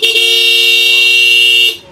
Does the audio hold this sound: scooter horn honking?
yes